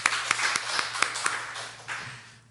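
A church congregation gives a brief round of welcoming applause for the returning accompanist. The clapping is scattered and soft, with a few sharper claps standing out, and a low hum runs underneath throughout.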